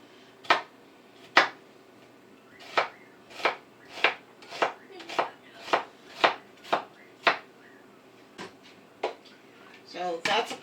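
A knife cuts through a large onion on a cutting board in about a dozen crisp, evenly spaced chops, close and distinct against a quiet room, with a short scraping shuffle at the end.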